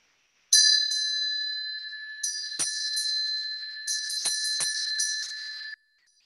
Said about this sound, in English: This is the sound of the Vajra bell.